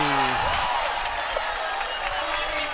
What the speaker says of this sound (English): That point has this crowd absolutely fired up.